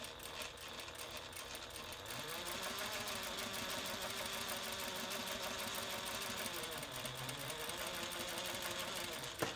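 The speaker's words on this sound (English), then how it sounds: "And you might as well do chain stitching as we did in quilting." A sewing machine runs a chain stitch along a handbag strap, its fast mechanical whir holding steady for several seconds at moderate distance, with no talking.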